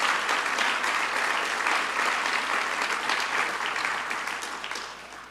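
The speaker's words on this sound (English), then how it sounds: "So let's give you a big round of applause for all that you did in making this happen." Applause from the audience at a 2024 banquet of Iowans Supporting Israel, a dense burst of clapping filling the room and slowly fading.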